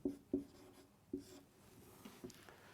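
Chalk or marker strokes on a board during a Class 6 maths lesson, five or six short scratchy taps spaced irregularly, fairly close and quiet with no talking.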